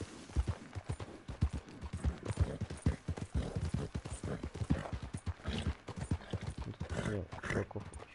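Horses walking with steady clip-clopping hooves close by, the rhythmic clatter running throughout alongside voices talking.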